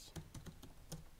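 Typing on a computer keyboard: a handful of soft, separate key taps spaced irregularly, close but quiet, with no voices.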